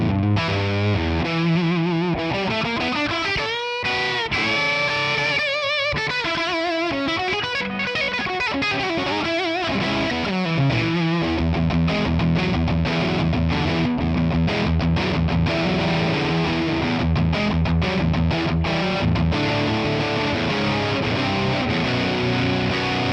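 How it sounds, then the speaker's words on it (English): Electric guitar played through a ToneX ONE amp capture called 'dimed fat', a fuzzy, heavily distorted tone with no reverb, with chords and single-note runs ringing out steadily and alone for the whole stretch. "it's called dimed fat, and it has a fuzzy kind of capture"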